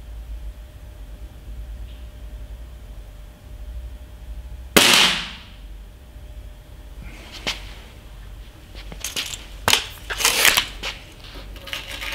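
A single sharp crack from a Snowpeak SR1200S pellet air rifle firing at a target stands out against steady background hum, followed by scattered clicks and handling noises.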